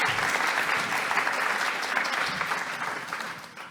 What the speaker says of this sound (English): I want you to give a round of applause to Catherine and the team